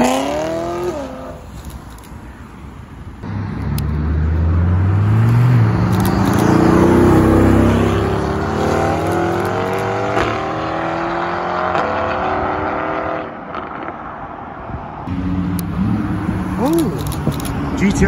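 A Nissan GT-R and a Lamborghini Huracán Evo drive past on a street in Alderley Edge, engines swelling from a low growl into a loud passing roar then fading, with people chatting nearby.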